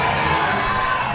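A sold-out wrestling crowd in Gadsden, Alabama roars and whoops in a dense, continuous wash of cheering and shouting, loud and close throughout the brief moment.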